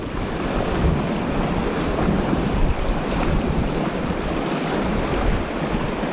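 Steady wind and breaking surf roll along a shore during lure fishing for bass and wrasse, a dense continuous rush with wind buffeting the microphone and no talk.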